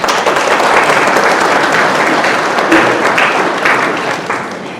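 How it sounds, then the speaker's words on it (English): Loud, sustained audience applause for parents at an ACCA high achievers celebration, a thick unbroken roar of many hands clapping close by, easing slightly near the end. "Make a big round of applause for your parents present here today."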